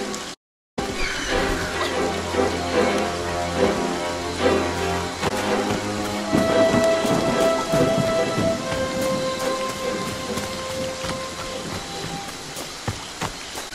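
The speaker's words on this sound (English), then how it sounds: "It's raining water in this bird bath." Steady heavy rain in the video game Friday the 13th pours throughout with rumbling thunder, loud and close, a brief dropout near the start.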